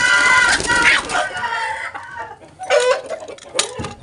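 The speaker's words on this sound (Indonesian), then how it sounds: "Ini ayamnya baru belajar nelor, usianya baru 6 bulan setengah." A six-and-a-half-month-old hen that is just learning to lay clucks and calls loudly and close, in a couple of drawn-out bursts separated by a brief quieter gap.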